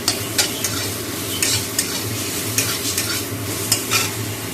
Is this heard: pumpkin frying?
yes